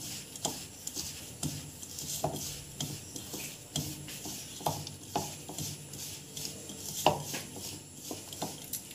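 Ghee being stirred into a homemade sweet in a pot, with a spoon scraping and tapping against the vessel in repeated soft clinks and rubbing strokes, close and fairly quiet, no talking.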